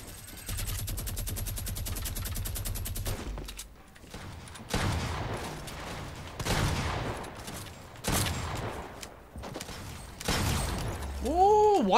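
Rapid minigun fire in Fortnite on Nintendo Switch comes in several long loud bursts of dense rattling shots separated by short gaps, ending with rising and falling whines of game effects.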